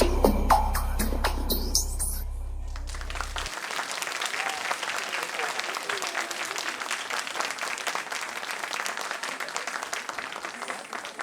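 An audience claps steadily for very young girl dancers at a dance school's temple performance. Dense, continuous applause follows a few seconds of music and fills the rest of the clip.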